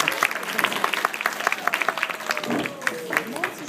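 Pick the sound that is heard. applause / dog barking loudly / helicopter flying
applause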